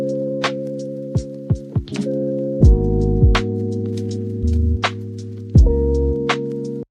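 AI-generated instrumental music from ElevenLabs plays alone, with sustained layered tones shifting chords every second or so, punctuated by sharp percussive hits and thumps, loud and clean.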